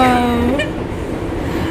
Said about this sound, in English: me and my sister took the subway.